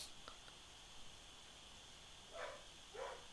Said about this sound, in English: I'm not very happy with my dog barking in the background,